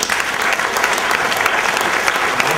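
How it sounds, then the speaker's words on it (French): Loud, close applause from the audience at an awards ceremony, the Tremplins 2011, forms thick continuous clapping without a pause across the whole moment. "on les applaudit"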